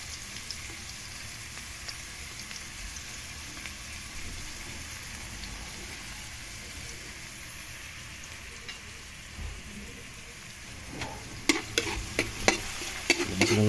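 Sliced garlic and onion sautéing in a pan, a soft continuous sizzle with faint stirring, then sharper scraping clatters of the utensil near the end.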